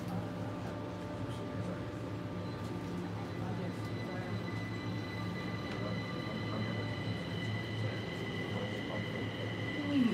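Kaohsiung Metro train running between stations, a steady mid-loud rumble of wheels and motors with faint whining tones rising near the end, continuous throughout.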